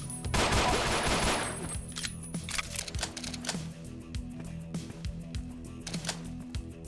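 Gunfire in the post-apocalyptic shooter Ashes 2063 opens with a loud sustained rapid burst, then continues as sharp separate shots at an irregular rhythm over a steady musical background.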